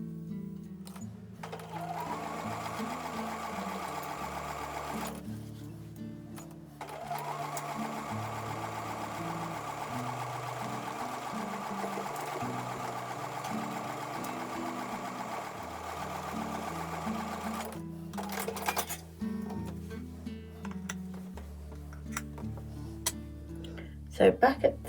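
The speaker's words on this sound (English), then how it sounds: "So I'm going to take those over to the sewing machine." A sewing machine stitches quilt block pieces for a flying geese block, running in long steady bursts with brief pauses between seams.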